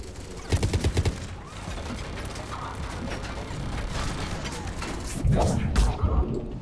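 Turret gunfire in Mass Effect 3 comes as rapid mechanical bursts, with a loud rattling volley near the start and another near the end, mixed with game noise and a voice.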